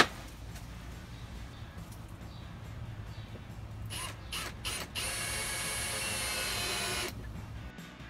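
Sides being screwed onto a concrete countertop mold with a drill, giving a steady close mechanical whirring and ratcheting that rises into a sustained high buzz near the end, with no talk.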